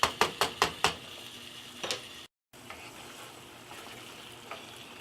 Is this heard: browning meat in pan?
yes